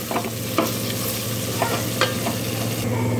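Garam masala and chicken masala powders fry in hot oil, giving a steady close sizzle broken by a few sharp stirring clinks and scrapes of a spoon against the pan.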